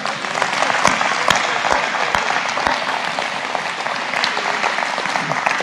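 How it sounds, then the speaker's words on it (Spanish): Audience in a church service clapping loudly and continuously for several seconds, a dense wash of hand claps with a few sharper individual claps standing out. "Denle un aplauso al Señor"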